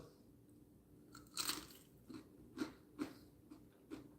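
Crunchy KFC fried chicken being bitten into and chewed, a sharp crisp crunch followed by several softer chewing crunches, close and fairly quiet.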